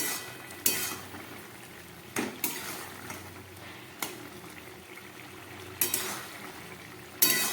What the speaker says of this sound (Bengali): এবার ঢাকাটা খুলে দেখাবো তরকারিটা কতটা হয়েছে